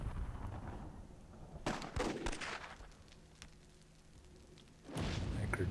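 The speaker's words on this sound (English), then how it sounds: "Misfiring that RPG, it looks like." An RPG rocket launcher misfires during a World War II–themed Myth II: Soulblighter battle: sharp weapon blasts come in a short cluster, then the sound falls to quiet rumble before another loud burst near the end.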